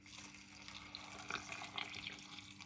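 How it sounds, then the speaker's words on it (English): Cold water poured into a pot of oats for Jamaican porridge, a quiet, steady trickling and splashing with a few brighter drips, close up and without talk. "we're going to add some water to it."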